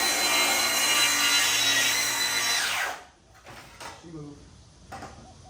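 A track saw cuts through material with a loud, continuous high-pitched whine for about three seconds, then spins down abruptly, leaving faint clunks and handling noises.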